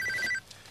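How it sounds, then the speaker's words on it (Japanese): A telephone rings briefly for an incoming call on a Japanese game show, a short electronic trilling burst that stops abruptly after less than half a second, faint with no talk over it. "木原さんから電話です。"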